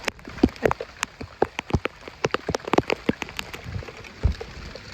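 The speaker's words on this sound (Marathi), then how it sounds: "बाहेर पाऊस एकदम बेकार चालू झालाय, भरपूर पडतोय" Heavy rain pours steadily, heard from shelter inside a drain, with sharp, irregular drops pattering hard on a nearby surface, loud and dense, no voices.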